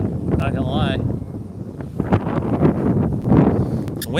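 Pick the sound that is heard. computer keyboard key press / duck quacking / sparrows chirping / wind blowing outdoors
wind blowing outdoors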